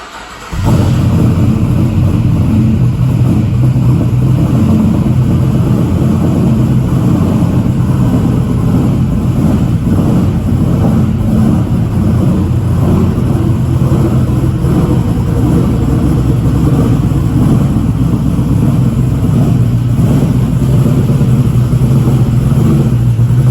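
An LS-engined Holden HZ idles and rumbles steadily as it is driven into a back garage, a loud, continuous low engine drone that stays constant throughout with no talk.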